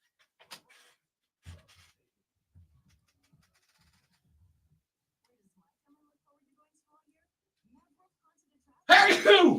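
A single short sneeze near the start, followed by faint quiet shuffling, then a voice speaking loudly at the end.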